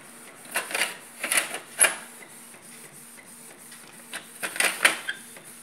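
A Canon G3110 inkjet printer runs a job, its print head shuttling in several short mechanical bursts of whirring and clicking over a steady low hum, close and fairly loud, with quiet gaps between passes.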